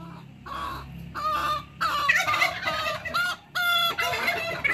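A rooster in a backyard henhouse crows with an unusual call, a series of loud, close harmonic bursts with brief gaps between them, along with clucking from the flock of chickens.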